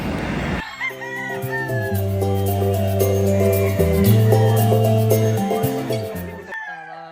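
Roosters and hens on a gamefowl farm at Mount Banahaw in Luzon, Philippines: a long loud rooster crow close by, then a second drawn-out crow, with clucking chickens in the background.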